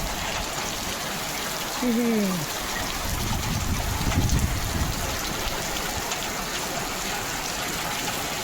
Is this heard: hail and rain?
yes